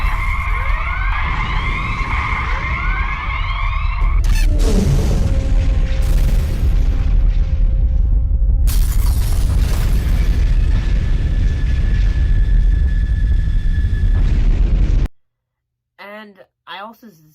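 Explosion sequence on a planet from a Star Trek New Voyages episode: loud sustained rumbling booms under music and voices, with a sharp burst partway through, then an abrupt cut to near silence and a brief sound at the end.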